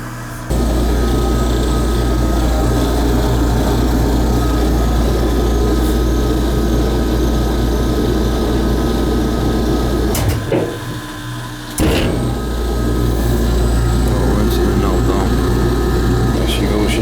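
A washing machine on its spin cycle, running a winterizing dose of antifreeze through the drain trap, drones loudly and steadily throughout, briefly dipping and restarting near the middle, with someone talking over it.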